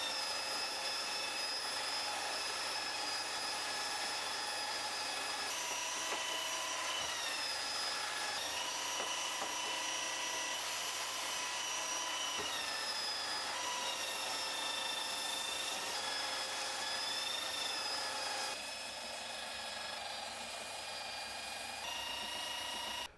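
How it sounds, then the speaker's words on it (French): An electric sander works over wooden boards with 120 grit paper, giving a loud, continuous, steady whine with a high motor tone that holds nearly unchanged at close range before dropping slightly toward the end. "Maintenant qu'on a réalisé les opérations de ponçage, on a des planches qui sont propres, qui sont douces au toucher"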